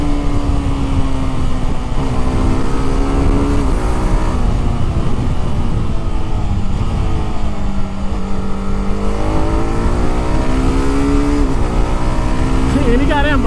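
A 2025 TVS Apache RR 310 with a quickshifter is ridden at speed, its engine note rising and dropping through gear changes beneath loud wind rush while someone talks over it.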